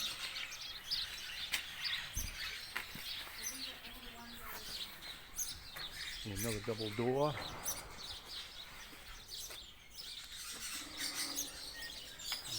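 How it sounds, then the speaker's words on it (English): King parrots and lovebirds call from inside an aviary, with chirps and tweets scattered throughout over a busy background while a person talks nearby. "As you can hear now, some of the parrots and the lovebirds"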